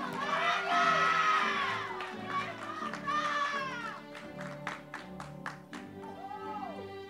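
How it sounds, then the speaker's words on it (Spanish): A school graduation audience in Arecibo, Puerto Rico, cheers loudly as children shout and yell. Scattered handclaps follow as the excitement settles. "Un fuerte aplauso para Ariam."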